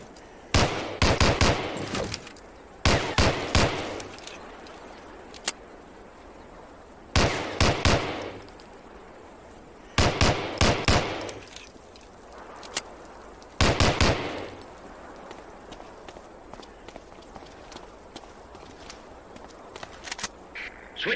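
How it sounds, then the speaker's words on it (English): Colt .45 pistol fired at a target on a training range in the PC shooter Medal of Honor: Allied Assault, sharp clusters of rapid gunshots in several separate bursts, loud and close, with quiet gaps between, no talk. "Try a couple of shots on that target with your 45."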